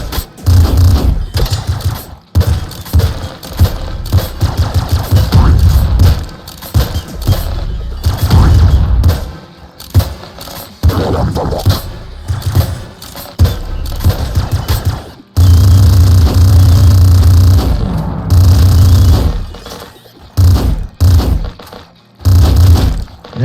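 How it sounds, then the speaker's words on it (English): Burst-fire weapon in the game Nuclear Throne firing five-shot bursts per click, a loud, dense run of rapid digital gunshots that keeps stopping and starting, with some booming impacts mixed in. "This weapon shoots a burst of 5 shots every click"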